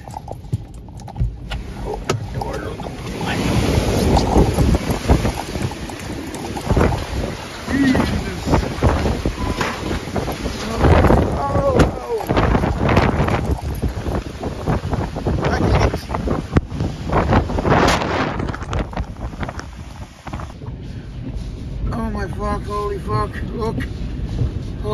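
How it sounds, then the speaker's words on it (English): Strong hurricane wind batters the microphone on Prince Edward Island, with a loud, continuous roar and gusty buffeting throughout, and a person speaks briefly over it. "Jeez, she's windy."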